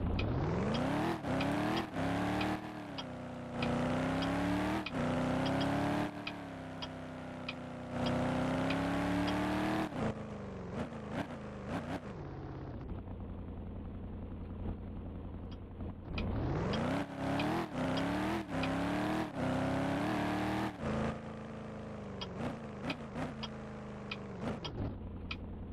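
A car engine in the game ERLC drones and revs steadily, pitch rising and falling with gear shifts, with a brief lull midway before the engine picks up again.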